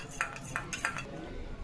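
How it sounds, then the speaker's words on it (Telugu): Eggs for an egg masala dosa are beaten with a utensil against a bowl, giving a few quick light clinks in a short burst, close and fairly quiet. "ఇది బాగా మిక్స్ చేయాలి."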